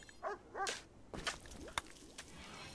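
A few short dog barks and yips from the video game RimWorld sound in quick separate bursts, fairly faint against a quiet background, with no talking.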